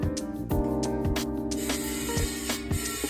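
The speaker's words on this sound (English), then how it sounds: "Now I'm going to grease the steamer." Oil spray mists onto a dumpling steamer pan in several short, close hissing bursts, the last ones running into a longer continuous spray.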